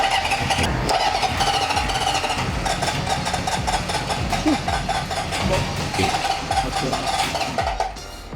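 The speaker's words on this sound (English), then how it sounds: "What causes backfire like that? Just too much gas and it getting ignited." A 1974 Honda CB750 motorcycle engine cranks and catches, running loud and rough with sharp backfire pops, close by and continuous throughout.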